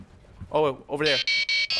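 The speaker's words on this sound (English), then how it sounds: "The alarm. The police alarm's going." A police alarm blares in a video game as a rapid series of loud, steady electronic tones after excited voices talk over the start.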